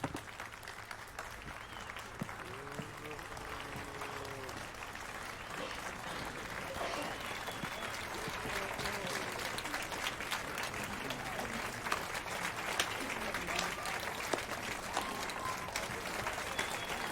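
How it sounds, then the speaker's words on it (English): Crowd applause in The Witcher 3: Wild Hunt after a song performance, a sustained, moderately distant patter of many hands clapping, with faint murmurs and scattered voices mixed underneath. "Clap, clap, clap, clap, clap."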